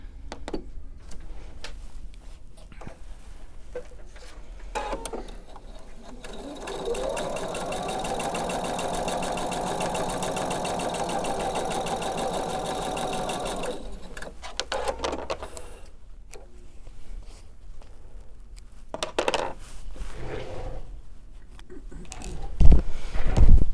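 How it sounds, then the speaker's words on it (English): A sewing machine runs in one sustained burst of fast, even stitching along a marked line on fabric, framed by quieter handling clicks and rustles before and after. "I'm going to sew right on that marked line, right on it"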